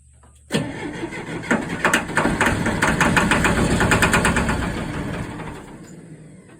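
A heavy diesel engine on a 1967 Allis-Chalmers HD-4 crawler loader, idle for nearly a decade, cranks, catches and runs loud and rough on starting fluid alone, with rapid knocking pulses, then slowly fades toward the end.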